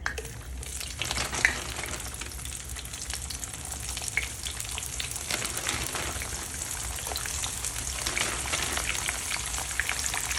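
Danggit, a dried fish, frying in a pan for a breakfast of garlic fried rice and eggs, with a steady, even sizzle and small spattering pops running throughout.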